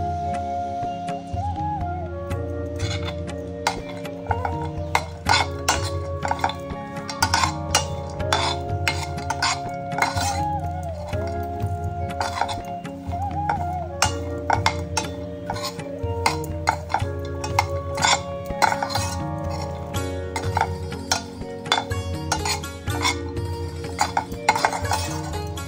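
Dry fruits roasting in ghee in a pan while being stirred, giving a steady run of spoon clinks and scrapes against the pan under continuous background music.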